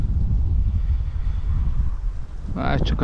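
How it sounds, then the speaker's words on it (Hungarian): Wind buffets the microphone at a Hungarian carp fishing lake, a steady low rumble throughout, with a brief voice breaking in near the end. "Várj, csak a szél amúgy."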